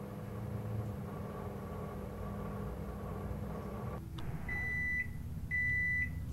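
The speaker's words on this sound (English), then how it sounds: "They went like a microwave." Electronic microwave oven beeps in a horror video game, two short tonal beeps rising out of a steady low hum near the end, after a brief dropout in the background drone.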